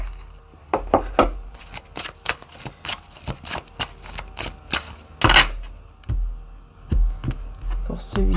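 Tarot or oracle cards being shuffled and drawn, a run of crisp riffling slaps and flicks in uneven bursts, close and fairly loud, with no talk over them.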